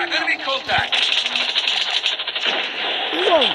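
Submachine gun fire in a video game, rapid bursts of loud gunfire with rattling mechanical bursts over continuous noise, while someone talks over the action.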